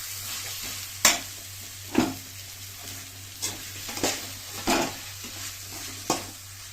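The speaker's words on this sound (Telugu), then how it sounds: "ఇదంతా బాగా మిక్స్ చేసి బాగా వేగాలి." Tomatoes, green chilies and curry leaves stir-frying in a pan, with a steady sizzle broken by about half a dozen sharp scraping stirs spaced roughly a second apart, close and fairly loud, no voices.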